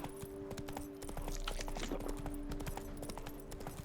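Roach, the horse in The Witcher 3, trots with steady clip-clopping hooves, close and clear over a low game ambience and faint music tones, with no talking.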